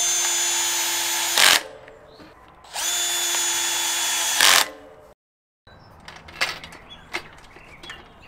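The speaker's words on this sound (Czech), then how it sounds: "jak špatně se tam dávají ty šrouby na kotouč. Takže akuvrtačkou úplně nejlepší." Cordless drill driving the screws of a disc brake rotor on a new Rose Soul Fire freeride bike: two sustained whirring bursts of a second and a half or more each, each ending in a brief louder bind as the screw seats. Up close, followed by quieter tool handling and clicks.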